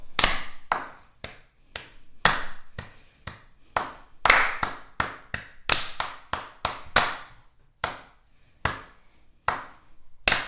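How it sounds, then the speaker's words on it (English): A single person claps along to a counted pulse in a primary school music lesson, sharp isolated claps at a steady, slightly uneven rhythm, close and clear against near silence. "And then they have to clap on every beat one after that."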